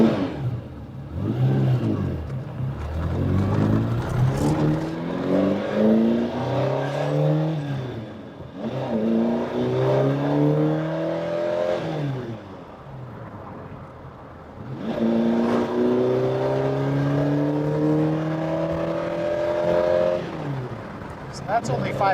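A TVR Cerbera engine revs up to about 5,000 RPM in repeated climbing sweeps, three or four rising pulls with brief drops between, heard from inside the car under ongoing conversation.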